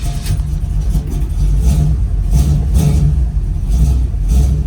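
A cold car engine runs close and loud, rising and falling in repeated revs over a rough, uneven, low idle.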